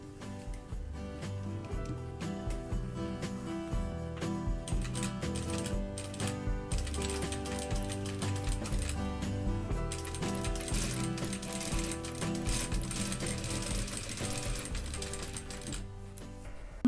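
A sewing machine stitches an exposed zipper with rapid, continuous mechanical clatter, fairly quiet and close, running in steady bursts without talk.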